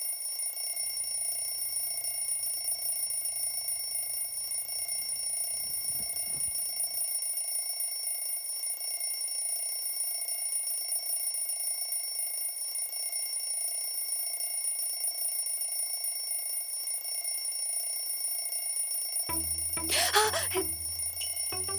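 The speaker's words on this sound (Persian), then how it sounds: "چرا این وقت صبح آلارم گذاشتی؟" A morning alarm ringing steadily in a bedroom as a sustained electronic tone at moderate level, with a brief low murmur early on and a short burst of rustling and a voice near the end.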